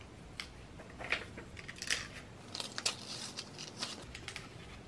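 Scissors snip through paper in a quiet indoor setting, a series of short, crisp, close cuts spaced irregularly over a few seconds, with faint rustling between them.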